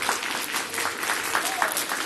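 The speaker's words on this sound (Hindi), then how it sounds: "जोरदार तालियां होनी चाहिए" Audience applause at a school Independence Day and Republic Day function, a steady patter of many hands clapping at moderate distance, fairly faint and even throughout.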